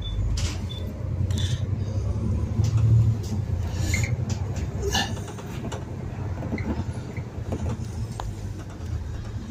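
Inside a bus riding through Taunton town centre, a steady low engine rumble fills the cabin, with rattles, creaks and brief clunks scattered over it and a swell in the drone partway through.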